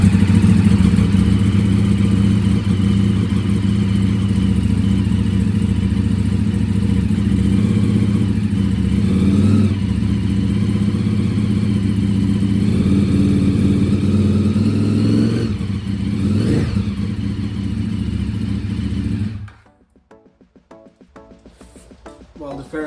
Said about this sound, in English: I'm gonna start it up. Let the engine spin around